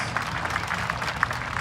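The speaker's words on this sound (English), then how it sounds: "Let's give all of our junior showmanship exhibitors a really big round of applause." Applause for junior cattle showmanship exhibitors at the Arizona National livestock show, a short spell of scattered clapping from a modest ringside crowd, fairly soft and steady.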